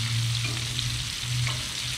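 Cajun red snapper fillets frying in hot grease outdoors, a steady close sizzle and crackle with a low bubbling hum throughout, no voices.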